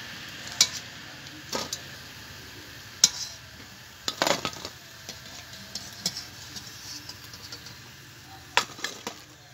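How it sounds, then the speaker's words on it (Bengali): Eggs fry in a pan with a faint, steady sizzle, broken by intermittent clicks and scrapes of a utensil against the pan. "সব ডিমগুলোকে আমি এইভাবে ভেজে নেব।"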